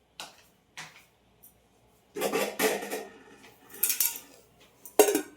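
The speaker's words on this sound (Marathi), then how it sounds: "आता याच्यावर मी झाकण ठेवते." A lid is set on a pot of semolina soaking in milk for a halva, giving sharp metallic clinks and clatter, a few brief taps followed by louder rattling contacts, close by and with no talk.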